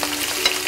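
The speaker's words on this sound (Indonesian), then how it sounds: "Nggak apa-apa, tetap kita goreng aja ya." Milkfish frying in a pan of hot oil, giving a steady close sizzle with faint crackles and no talk.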